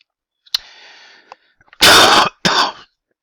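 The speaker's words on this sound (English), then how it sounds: "Sorry about the cough." A man clears his throat and coughs, first a short rasp followed by a quiet murmur, then two loud, close, harsh bursts in quick succession.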